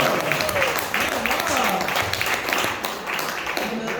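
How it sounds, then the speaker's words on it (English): An audience applauds, a burst of clapping with voices mixed in, moderately loud and continuous. "Can we get a round of applause for that?"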